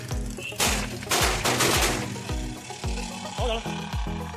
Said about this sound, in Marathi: आता आम्ही दिवाळीच्या दिवशी फटाके फोडले इथं